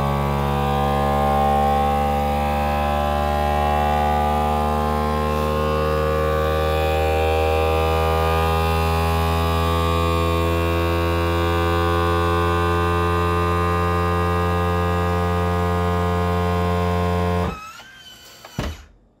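A vacuum sealer machine pulls air through a hose attachment fitted to a lid, giving a steady, loud, close motor hum with a droning pitch that runs unbroken for about seventeen seconds before cutting off abruptly.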